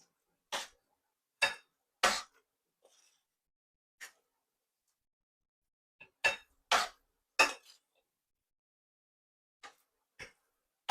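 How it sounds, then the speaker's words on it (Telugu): A spoon scrapes and clinks against a pot while moong dal is stirred into ukkarai, giving sharp, separate metallic knocks at irregular intervals with near silence between them. "ఈ పెసరపప్పును కూడా ఇందులో చేర్చుకుంటాం. చేర్చేసి బాగా కలియబెట్టుకోవాలి."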